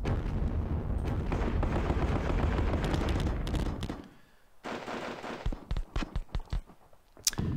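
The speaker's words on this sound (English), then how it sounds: "When that heavy artillery opens up, it's just crazy." Heavy artillery fire in the Panzer Battles Kursk war game: a dense roaring barrage, a brief lull, then a rapid string of sharp booming shots and a final loud crack.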